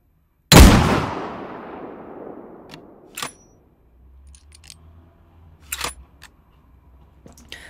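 A single hefty, booming gunshot from a big gun cracks out loudly, then rolls into a long, fading tail, followed by a few lighter mechanical clicks and thuds, with no voices.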